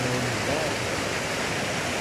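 Cascada Espadera, a waterfall in nature near Medellín, roars as a loud, steady broadband rush of falling water that fills the whole stretch without a break.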